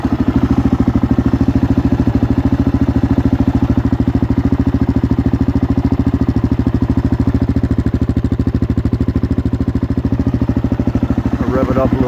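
A Honda TRX400X ATV engine fitted with a Lexx MXe slip-on exhaust idles loud and close, a steady rapid thumping pulse that holds without pause, with a brief clatter near the end.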